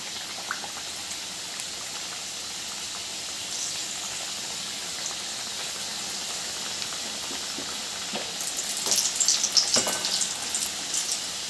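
Karanji pastries slipped one at a time into hot oil, a steady bubbling sizzle that swells louder and busier toward the end, with no voices.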